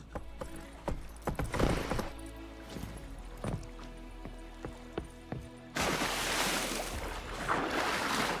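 Horse hooves trotting in The Witcher 3, rhythmic clip-clop beats at moderate distance over a low ambient hum, giving way to a rush of wind or water noise in the final seconds.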